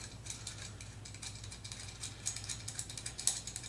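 Small screw being driven and tightened into a replacement thumbwheel on an Ego vape pen, giving a run of fine, close clicking and ratcheting ticks that build toward a sharper snap near the end, over a low steady hum.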